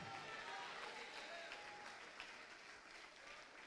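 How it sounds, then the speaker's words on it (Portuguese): A church congregation applauding together during a service, a dense, steady wash of clapping at moderate distance that carries evenly throughout with a slight roomy quality. "vamos aplaudir mais"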